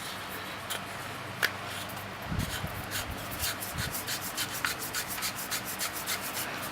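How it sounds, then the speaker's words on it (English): A cap being screwed onto a pop rivet tool produces soft, repeated rubbing and gritty scraping, with a few faint ticks and a quick train of rasping turns toward the end. "We want these actually to be spring loaded like they are, screwing the cap on."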